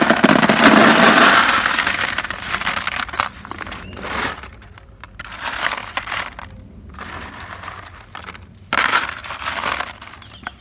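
Drainage stones tipped into a blueberry container pot, a loud gravelly rush and clatter at first, then several shorter rattling pours and shifting crunches nearby, no talking.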